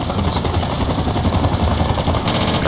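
Sustained machine gun fire in the Project Reality Vietnam-era battle game, a loud continuous rattling burst filling the whole stretch with no pause.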